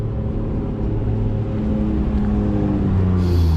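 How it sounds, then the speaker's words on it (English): A Toyota Supra Mark IV and a Honda S2K roll up on a street, a steady close engine rumble and drone that grows slightly louder toward the end. "We got another Mark IV pulling up with a S2K."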